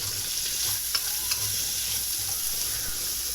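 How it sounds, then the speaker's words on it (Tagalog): Ginger, garlic and onion fry with pork liempo in a pan for laing, giving an even, close hiss of sizzling oil with a few light stirring ticks and no speech. "ilalagay na natin dyan yung luya, bawang, sibuyas"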